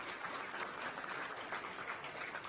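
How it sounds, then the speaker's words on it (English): Audience applause for a speaker at a panel event on race and elections, a dense steady patter of many hands clapping, fairly distant and soft. "Let's give him a round of applause."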